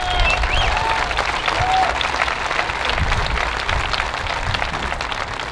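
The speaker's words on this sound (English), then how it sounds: "So a big round of applause for the family" A crowd at the closing ceremonies of the Staal Foundation Open golf tournament applauds steadily and loudly for the whole stretch, with scattered whistles and faint cheering mixed in.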